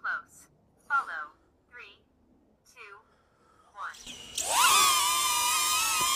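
A DJI Neo drone spins up and hovers close by, its motors giving a loud, steady high-pitched whine after several seconds of sparse talk.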